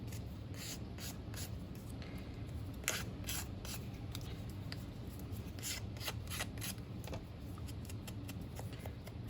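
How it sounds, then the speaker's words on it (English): Vintage Photo ink rubbed around the edges of a paper pop-up card, a steady series of short scratchy brushing strokes close up, with no talking. "Now I will use a bit of the ink a bit around the edge."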